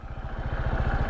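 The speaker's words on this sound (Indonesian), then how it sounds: "Nah ini suara dari CVT ini" Honda ADV 160 scooter's CVT drivetrain whirring along with the engine, a quick, throbbing low rumble with a faint rattle, steady and close-by, with no one speaking.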